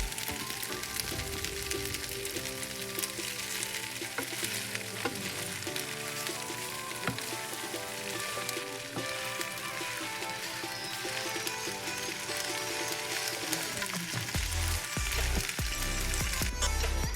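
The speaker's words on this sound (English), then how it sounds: "I'm just going to mix it really well until that flavor is on the pasta" Pasta is tossed and stirred in a frying pan for a shrimp Alfredo linguine, a continuous crackling sizzle with scraping and clinking of utensil against pan, closer thumps near the end, no talk.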